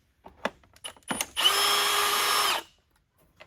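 A power drill or driver whirs steadily for about a second, backing out Phillips screws from the brushroll housing of a Eureka Airspeed One vacuum, preceded by a few light clicks and taps of handling, close and fairly loud.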